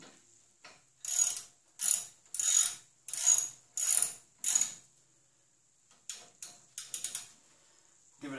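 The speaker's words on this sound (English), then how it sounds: "my socket wrench, righty-tighty, left-loosey, so I want to tighten them up" A socket wrench tightens bolts during rear rotor work on a 2003 Ford Explorer. Six clear bursts of quick ratcheting clicks are heard, each a second or so long, followed by shorter choppier ratchet strokes, close up in a quiet space.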